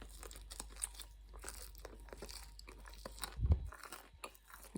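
Someone bites into soft bread with a crusty outer coating, giving close, crisp crunches and chewing that build to a louder crunch near the end, with no talking.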